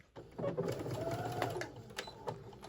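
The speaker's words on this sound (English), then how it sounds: "I'm going to go ahead and sew all the way down." A sewing machine stitches a quarter-inch seam on a patchwork tote, running in close, uneven bursts of rapid mechanical whirring with short pauses between runs.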